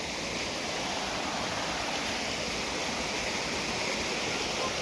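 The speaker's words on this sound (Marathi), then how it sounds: "पाणी किती मोठं पाणी रे" Rushing water from heavy monsoon rain roars as a loud, dense, continuous wash, close and unbroken from start to finish, with no talking.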